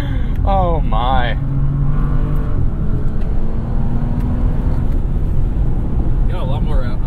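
A Bentley W12 engine revs in the car, a steady engine drone running throughout with people talking over it, and a louder blip near the start.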